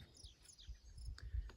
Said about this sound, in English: Listen to all the happy birds.